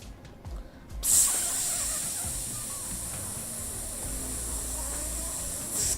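A spraying weapon fires in the video game Helldivers 2, a loud continuous hiss that starts after a second and holds steady to the end over low game noise.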